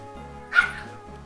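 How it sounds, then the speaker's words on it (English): A single short, sharp bark from a grouchy pet dog named Bella, fairly close, over a low steady background hum. "my dog has been a grouch lately and fighting with my cat"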